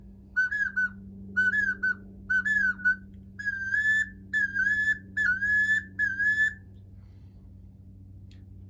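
A series of short, high whistle calls in quick bursts from a 5-in-1 duck call whistle imitating mallard drake, widgeon, pintail, teal and wood duck, sounding close and clear before falling quiet.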